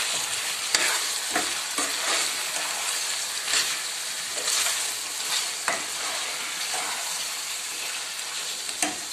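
Chilli powder being stirred into masala frying in a pan, a steady broadband sizzle with intermittent scraping strokes of a spoon, close and continuous with no talk.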